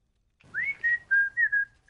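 A person whistles in Sniper Elite 4 to lure an enemy: a clear, close series of four short rising-then-level whistle notes in quick succession after a brief silence.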